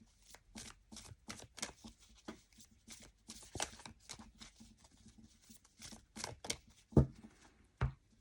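An oracle card deck being shuffled by hand, a steady run of quick papery riffles and slaps, close and fairly quiet, with a couple of sharper knocks near the end.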